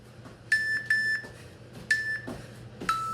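Workout interval timer sounding a few short electronic beeps in a steady pattern, each a bright tone, clear and close over quiet room noise.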